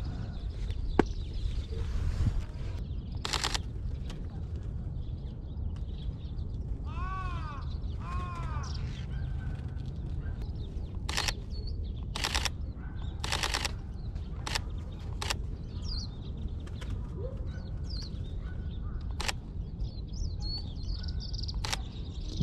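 Birds call in Yoyogi Park, Tokyo, among spring cherry blossoms: repeated short chirps and caws, some sharp and loud, with a run of warbling whistles midway, all over steady outdoor background noise.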